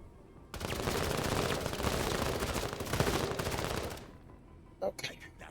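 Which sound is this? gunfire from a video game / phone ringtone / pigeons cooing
gunfire from a video game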